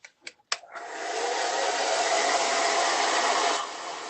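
A hair dryer blows steadily for about three seconds to dry paint swatches, preceded by a few short clicks and bumps, fairly loud and close with no talking.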